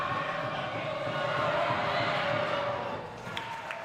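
High school varsity basketball crowd in a gym during a free throw, a steady roar of voices that drops off sharply near the end, with a few faint squeaks afterward.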